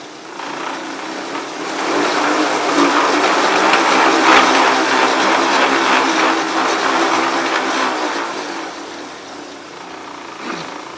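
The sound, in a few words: track bike spinning up on training rollers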